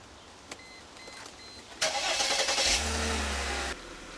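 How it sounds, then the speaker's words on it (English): A car raised on a jack during power steering hose replacement has its engine started: a few faint clicks, then a loud cranking catch that settles into a steady idle before cutting off. "with the car jacked up in the air, start the engine."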